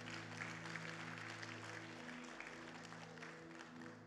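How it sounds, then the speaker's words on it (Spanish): Applause from a church congregation, a soft, even patter of many hands heard from a distance under a steady low hum, continuing evenly throughout. "le da un fuerte aplauso al Señor"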